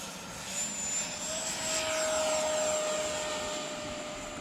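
Freewing Yak 130 70mm electric ducted fan model jet spools up for takeoff, its steady high-pitched whine rising and swelling as it accelerates, loud and fairly close, with a whooshing rush of air underneath.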